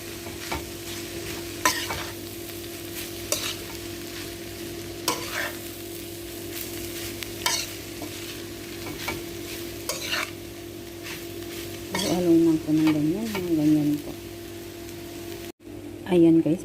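Shredded chicken for shawarma is stirred in a pan: continuous frying sizzle with scraping strokes throughout, and a voice briefly heard toward the end.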